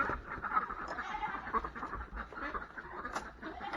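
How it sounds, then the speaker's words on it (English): Several ducks quack continuously in a noisy flock, fairly close, with overlapping calls and no voices. "Alright, ducks."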